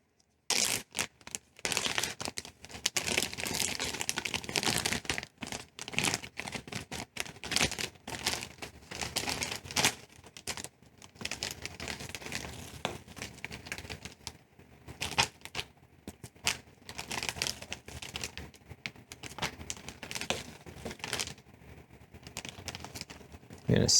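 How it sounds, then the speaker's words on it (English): Crinkling and rustling of a regular plastic Ziploc bag filled with cheese for stuffed shells, handled close up in a kitchen in a long run of irregular crackles and soft bursts. "we can just use a regular old Ziploc bag"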